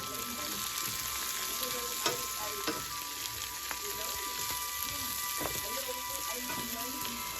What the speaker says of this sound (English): I'm just going to use that same pan and throw the veggies right on in there.